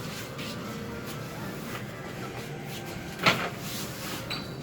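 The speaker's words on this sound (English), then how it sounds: "Doors opening." Glass lift doors at a hotel in Bali slide open, a soft mechanical whir and thud against a low steady hum of the lift, moderately quiet and with no talking.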